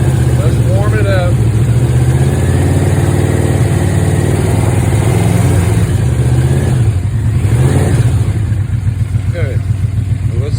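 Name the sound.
Yamaha Royal Star Venture motorcycle engine warming up, idling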